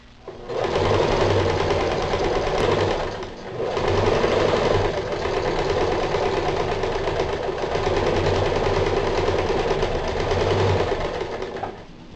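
A sewing machine runs a strong double seam along a fabric potato grow bag, with two long steady bursts of close, loud motor whir and needle clatter, a brief slowdown between them, then a stop.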